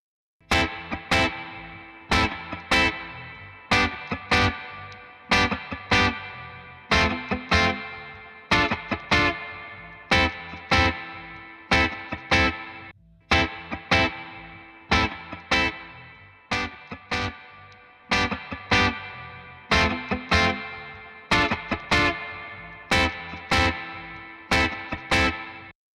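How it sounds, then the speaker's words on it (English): Guitar run through a Dist TUBE-CULTURE tube distortion, bias control swept from zero to maximum: repeated strummed chords in a steady rhythm, loud and saturated, each ringing out before the next, with no talking. "Let's now play with the sound and slowly add the bias control from zero to maximum."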